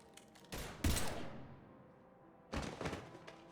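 Video game gunfire from Mass Effect 3 comes in two short, loud bursts of rapid shots about two seconds apart, the first tailing off into a fading echo.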